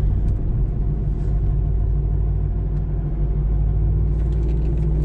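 Deep, rumbling exhaust note from a Chevrolet Corvette C5 fitted with a Corsa Extreme exhaust, a steady loud idle-like burble with a slight rise near the end.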